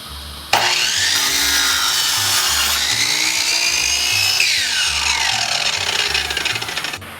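A power saw cutting through pallet wood boards, one steady loud cut of about six seconds with a rising and falling whine as the blade moves through the board, close by and without speech.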